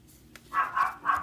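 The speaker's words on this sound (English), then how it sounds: "Sorry about the barking" Three short dog barks in quick succession, moderately loud and fairly close, with a quiet background.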